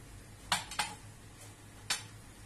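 A cooking pan is set down on a stove to heat: three short metallic clanks, two close together and a third a second later, faint over a quiet kitchen hum.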